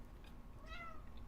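A cat gives a single short meow, faint and in the middle distance, over a steady low background rumble.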